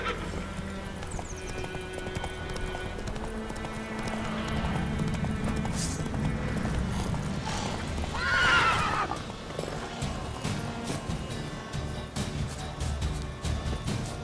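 Roach, a horse in The Witcher 3 video game, clip-clops steadily close by and lets out one loud, clear whinny partway through, with hoofbeats carrying on throughout over a low ambient bed.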